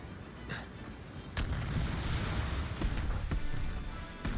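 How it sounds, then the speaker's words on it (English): A video game explosion bursts in with a loud, sustained rumbling roar, followed by scattered sharp booms and crackles up close. "After this explosion and you're back, it puts you in the world."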